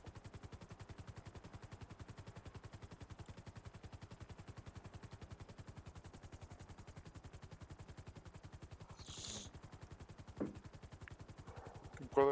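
A rapid, steady rotor chop thumps throughout, continuous and even, with a couple of brief sharp noises near the end.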